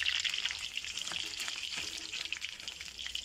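Bhajia fritters are frying in a shallow layer of oil in a home kitchen, giving a steady, close, bright sizzle and crackle that runs unbroken throughout with small popping spits and no talk.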